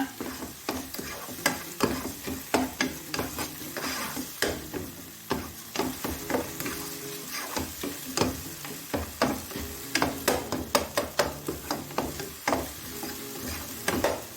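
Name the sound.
tomatoes being sautéed in pan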